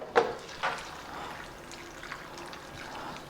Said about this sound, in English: And I'm going to add a little bit of water in here.